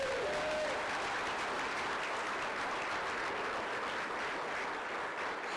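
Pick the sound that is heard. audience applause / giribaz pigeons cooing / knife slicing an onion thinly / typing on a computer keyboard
audience applause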